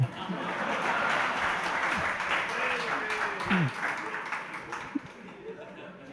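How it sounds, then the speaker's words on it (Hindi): A congregation claps loudly during a Jain sermon, a broad wash of applause that gradually thins, with scattered voices and murmurs mixed in underneath toward the end. "आप लोग बहुत जोर से तालियां बजा दी"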